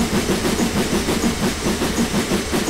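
A single locomotive running without wagons in the video game Train Simulator, a steady rhythmic rail clatter with a low engine rumble, loud and close throughout.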